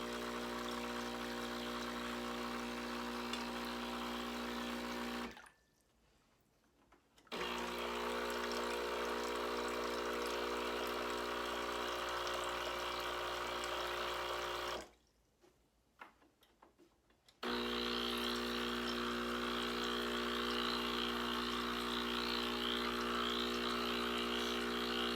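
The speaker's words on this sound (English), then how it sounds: "I'm just going through the process here and flushing everything out" Breville Barista Express espresso machine pumping water during descaling, a steady mechanical hum and rhythmic pump ticking that runs continuously, cutting out twice to near silence for a couple of seconds before resuming.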